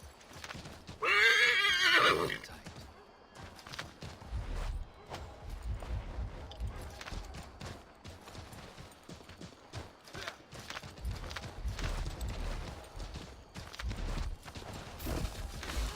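A horse in Assassin's Creed 3 lets out a loud, close whinny near the start, then hooves thud along steadily over a low rumbling game soundscape, with faint talk in the background.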